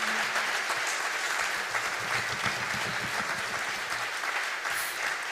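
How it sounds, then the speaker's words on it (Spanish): Concert audience breaking into sustained applause, a thick, steady roar of many hands clapping with faint low tones underneath, continuing unbroken throughout. "tienen que reventar YouTube del aplauso que les va a caer"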